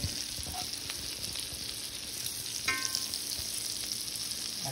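Shrimp frying in a pan for a Sunday dinner, a steady broadband sizzle with crackling pops that runs throughout, close and continuous, with no talking.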